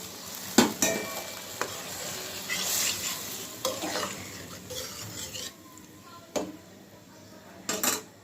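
Water poured onto tomatoes cooking in a pan, with stirring scrapes, sizzling and utensil clatter against the pan, close and moderately loud, building and easing in bursts.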